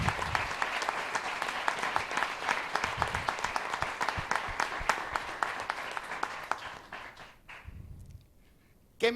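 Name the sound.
applause for the collaborators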